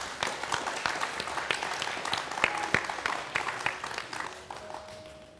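A studio audience on a Chongqing TV talk show applauds to welcome a guest: sharp, distinct claps over a steady wash of clapping that tapers off, with a faint tone near the end.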